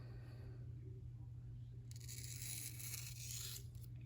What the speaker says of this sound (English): Listen to how quiet this goes through this piece of paper.